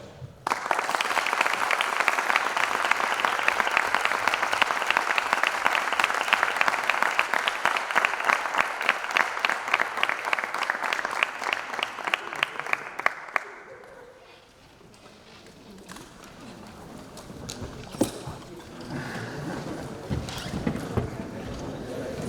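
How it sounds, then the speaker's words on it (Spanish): Applause after a pre-election debate rolls on strongly for about thirteen seconds, then fades out, leaving scattered claps and murmuring voices in the room. "Pido un aplauso para ellos y muchas gracias a todos por venir también."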